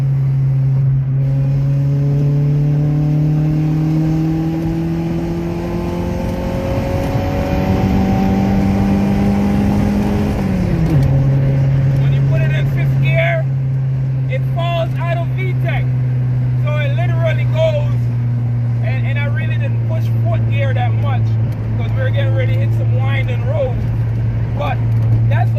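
A Honda Civic with a swapped H22 engine and Accord gearbox revving hard in fourth gear, a loud rising engine drone that briefly dips around the midpoint, then holds steady while voices talk over it.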